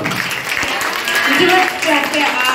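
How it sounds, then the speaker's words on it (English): Students at a Class X farewell gathering clap for themselves, a brief, fairly loud spread of applause with voices mixed faintly underneath. "Give a big clap to yourself."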